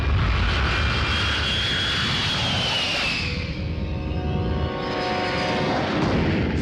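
An airplane in flight, approaching to land at Tirupati, gives a continuous loud engine roar with shifting whining tones, steady throughout with no talk.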